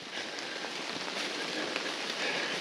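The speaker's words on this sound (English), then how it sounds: "rained really hard, and I'm pretty much soaking wet" Heavy rain pouring outdoors over fields and trees, a steady dense hiss of drops drumming on surfaces, loud and continuous with no talking.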